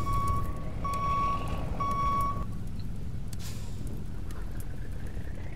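Reversing beeps from a fire engine in the Fire Engine Simulator video game, three steady electronic tones in a slow rhythm over a constant loud engine rumble, which carries on alone after the beeping stops.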